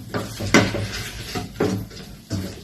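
Duck meat being stir-fried in a pan for a green curry, with a few clattering scrapes of a utensil against the pan over a sizzling background, close by and without talk.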